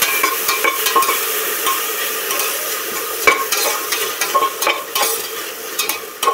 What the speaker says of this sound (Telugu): అంతా మంచిగా వేగనిద్దాము